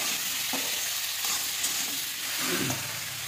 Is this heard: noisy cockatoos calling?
no